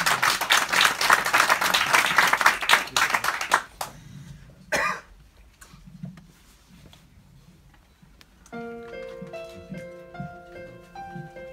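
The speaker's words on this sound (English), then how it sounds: "Et on t'applaudit bien fort" An audience claps hands in a burst of applause lasting several seconds, then stops. A cough and scattered sounds follow before a melodic tune begins.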